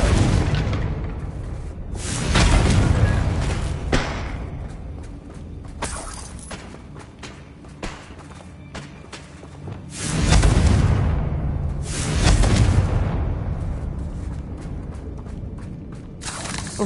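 Confringo blasting spell in a fantasy video game, a loud booming blast with whooshing bursts and shattering debris, two big swells of roaring explosion separated by quieter crackling, no speech.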